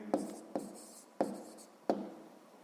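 A pen taps and scratches on paper in four short strokes, close and fairly quiet, while numbers are written down for a sixth-grade maths exercise.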